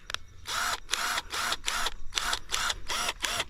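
A Hyper Tough 12-volt cordless impact driver runs in seven or eight short whirring bursts separated by brief pauses, close and fairly loud, with no talking over it.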